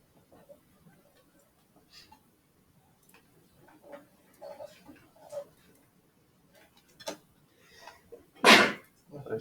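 A sneeze bursts out once near the end in a classroom during a geometry lesson, a loud short blast following scattered quiet ticks, shuffles and faint voices.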